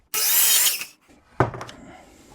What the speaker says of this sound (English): We're just going to cut a miter right at that point.